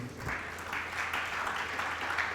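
Church congregation clapping and applauding the Lord during a French-language sermon, steady dense applause held at moderate volume throughout.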